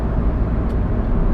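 The 1.8 TDDI diesel engine of a 2002 Ford Focus hums as a steady, dense low rumble heard from inside the car, constant in level, with no voices.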